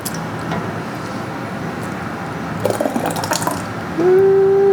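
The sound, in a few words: tomato sauce poured from a measuring cup into quart jars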